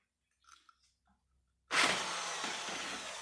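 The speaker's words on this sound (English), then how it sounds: "I have a little flapper wheel here on my drill" A flapper wheel on a handheld drill grinds into a Honda CB750 motorcycle part, starting abruptly after faint handling clicks and holding a loud, steady, rasping whine close up to the end.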